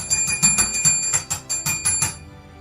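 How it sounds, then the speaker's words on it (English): Ringing metallic bells from lightning chess contests with twelve boards sound as a quick run of repeated strikes at an uneven rhythm. The run stops abruptly, there is no talk, and the bells are close. "12 bells."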